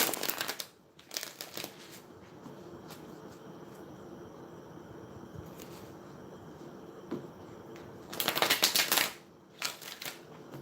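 Oracle cards from a Crystal Angels deck are shuffled in two brisk, papery bursts at the start and another near the end. Quieter handling and faint rustles fill the gap between them, with no talk.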